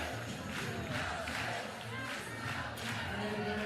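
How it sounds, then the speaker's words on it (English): Crowd noise swells steadily at an Oklahoma Sooners versus Arizona Wildcats college softball game, a dense roar of cheering fans rising to their feet late in a one-run contest, loud and continuous throughout. "You can hear the crowd. Everyone is starting to get on their feet."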